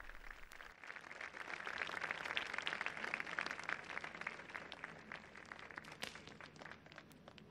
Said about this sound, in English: receive a round of applause from those present